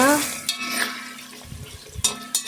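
Meat for Khorezm-style suzma pilaf fries in a pot, a soft steady sizzle with a few scraping stirs and clatters, heard alone without talk.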